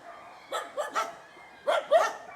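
Dogs at a shelter bark in short bursts, two quick barks, a pause, then two louder barks, moderately close with a faint background hum.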